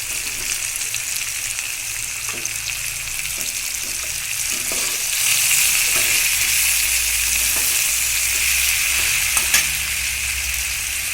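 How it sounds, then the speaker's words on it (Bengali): Milk pours into a hot pan for a homemade pickle and sets off a strong, continuous sizzle and frying hiss, with light stirring scrapes and occasional pops throughout. "এবার আমি দুধটা দিয়ে দিচ্ছি।"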